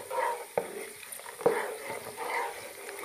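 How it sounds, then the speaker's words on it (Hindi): Whole spices fry in hot ghee for a white mutton korma, a soft low sizzle broken by two sharp clinks of a spoon against the pot, close and fairly quiet. "घी गर्म हो गया और ये मैं तमाम मिसाले इसके अंदर डाल के और इसको मैं हल्का सा ब्राउन कर लूँगा"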